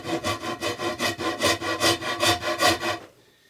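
Sanding a wooden bow handle during the making of a first bow: about a dozen rhythmic back-and-forth abrasive strokes, close and steady, then stopping abruptly into near silence.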